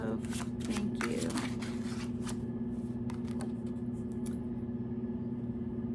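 Tarot cards being shuffled by hand, a steady papery riffling and flicking that runs close and continuous, with a constant low hum underneath.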